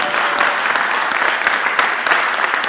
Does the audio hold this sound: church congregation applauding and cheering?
yes